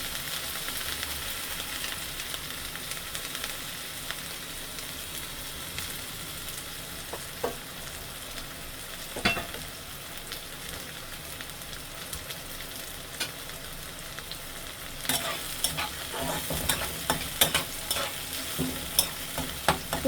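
Onions frying in oil for a matar shak, a dense continuous sizzle close by, with scattered spoon scrapes and clatter that pick up in the last few seconds.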